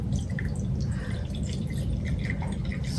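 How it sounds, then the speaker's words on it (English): Water pours and drips steadily into a container for a few seconds, a close, continuous trickle with scattered splashy drops over a low rumbling background. "we're going to pour these at the same time in here and try not to spill them, Mary."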